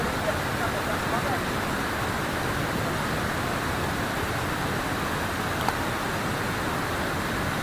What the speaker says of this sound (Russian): Водичка из ручья.